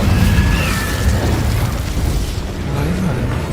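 An Incendio fire spell bursts with a loud, full-bodied whoosh and boom in Hogwarts Legacy combat, its sustained roar filling a few seconds up close before tapering slightly.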